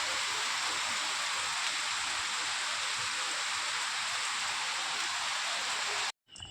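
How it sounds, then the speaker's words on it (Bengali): Heavy monsoon-style rain pours down in a steady, dense hiss that stays loud and unbroken for about six seconds before cutting off abruptly near the end. "উঠে দেখি দেখো কি মুষলধারে বৃষ্টি হচ্ছে"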